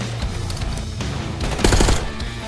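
Rapid automatic gunfire in Call of Duty Black Ops 6, a dense burst of overlapping shots with a louder cluster near the end, loud and close with no voices.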